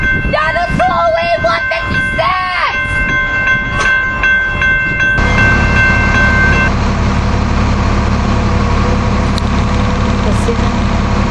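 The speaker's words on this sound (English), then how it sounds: "Oh my gosh, it's coming fast. This is an Amtrak." Amtrak NPCU 90208 on the Surf Line sounds its horn in several blasts, then rushes past close by with a loud, broad roar of wheels and cars, while voices talk excitedly over it.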